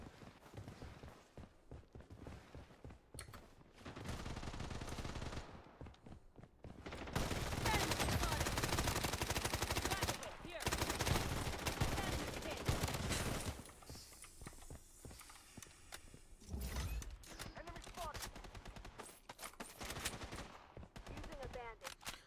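AK rifle fire in Blood Strike, bursts of rapid automatic shots and scattered gunfire in dense clusters, loud in the middle section and fading to sporadic pops, with footsteps between volleys.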